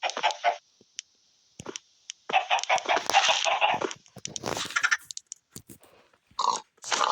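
Hens cluck and squawk in irregular bursts close by, with brief pauses between the noisy flurries of calls.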